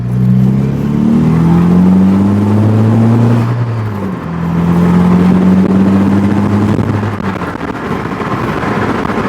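A diesel MG ZR with a 200 bhp L-series engine accelerates in third gear, its loud, close engine drone climbing steadily in pitch, dipping briefly as the revs drop, then rising again under buffeting wind noise.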